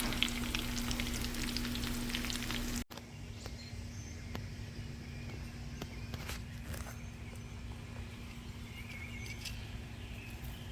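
Cicadas frying in a pan, a soft continuous sizzle and crackle, louder for the first few seconds then quieter and steady with scattered pops, no talking.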